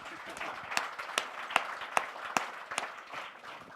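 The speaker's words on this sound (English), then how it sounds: "I'm going to give a round of applause again for" A panel audience gives a round of applause, heard as a short run of evenly spaced, crisp claps at moderate loudness that thin out toward the end.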